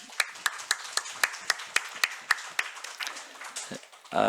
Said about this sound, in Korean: 우리 환영의 박수 치겠습니다